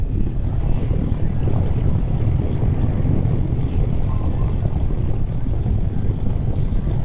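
Strong, steady wind rush buffets the rider on a QJ Motor SRT 900 Touring motorcycle, a loud continuous low roar with no breaks.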